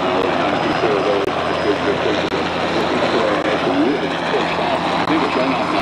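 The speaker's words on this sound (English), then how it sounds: "I've got several helicopters working in there." Several helicopters circle over a fire in Los Angeles, a loud, steady rotor and engine roar that fills the scene, with a voice talking faintly beneath it.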